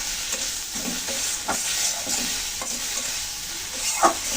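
Onion, garlic and spice paste stir-fry in oil with a continuous close sizzle, broken by a few scraping strokes of a spatula against the pan.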